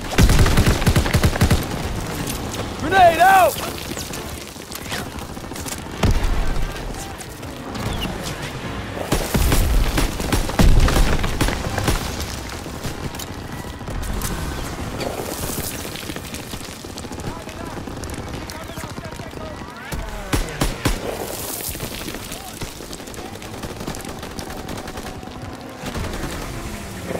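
Gunfire and blasts from a World War II battle in Call of Duty WW2, a busy mix of rifle and machine-gun shots with heavier booms, dense throughout and overlaid by shouted voices.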